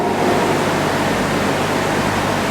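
Water is poured over a bandaged arm during ablution, making a loud, continuous rush of splashing water that runs steadily without pause.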